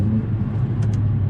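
A Mercedes A45 AMG with 4MATIC four-wheel drive runs in a small tunnel, its engine a loud, steady low rumble that fills the short stretch, with a couple of brief higher-pitched crackles near the end.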